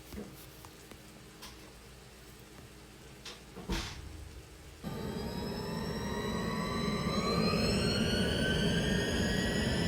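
An airliner takes off, heard from inside the cabin: a quiet hum and a thump, then the engines surge to a loud, steady roar with rising whine that builds through the climb.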